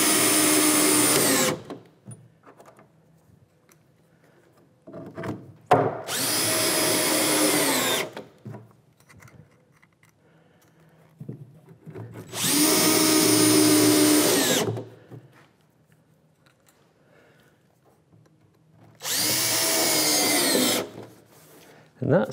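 A power drill drives screws into a wooden workbench in four loud whirring bursts of about two to three seconds each, separated by quieter pauses with faint handling noise and some speech.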